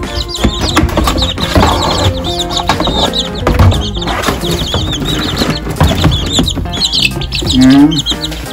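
Bantam chicks chirp constantly, loud and close, as they are taken out of their brooder and put into a box, with a busy overlapping chorus of peeps and occasional handling rustles.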